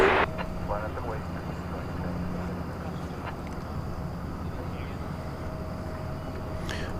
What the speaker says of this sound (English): Here's the MD-11.